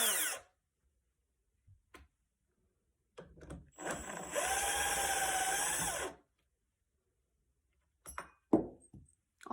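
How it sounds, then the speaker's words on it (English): A power drill backing screws out of a door latch plate on a wooden jamb: brief clicks and short trigger bursts, then a sustained whirring run of about two seconds that rises in pitch, followed by handling knocks. "So I will also remove this with the drill."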